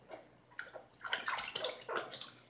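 Water splashing in a bath while a pet is being washed, soft irregular sloshes and splashes close by, quiet and intermittent with no voices.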